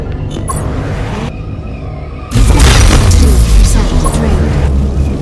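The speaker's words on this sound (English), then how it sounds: "Resonator destroyed. Resonator destroyed. Resonator destroyed." Resonators being destroyed in the mobile game Ingress Prime: a loud, dense booming burst of crashing, shattering game effects erupts partway through and stays heavy to the end, following a quieter stretch of electronic tones.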